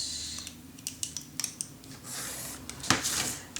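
Scissors cut paper in a crafting session with crisp, close snips and sliding rasps, scattered irregularly over a low background hum, with one sharper cut near the end.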